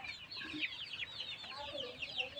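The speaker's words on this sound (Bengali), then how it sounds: "একদম দেশি মুরগির মতো হাঁচড়ে হাঁচড়ে খাচ্ছে খাবারগুলা" Several native desi chickens cluck and chirp softly and continuously while feeding, close by, with light scratching and shuffling underneath.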